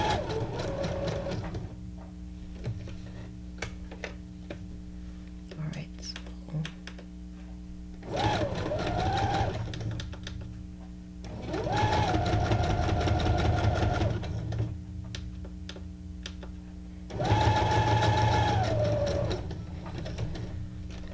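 A sewing machine stitches a zigzag on junk journal paper in several mechanical whirring runs of a few seconds each, starting and stopping, with quieter handling noises and brief pauses between them.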